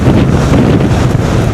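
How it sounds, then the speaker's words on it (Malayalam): Strong wind buffets a motorcycle rider on a highway trip from Karnataka toward Goa, a loud, continuous, roaring gust noise battering the microphone with no talking. "അടിപൊളി കാറ്റ്."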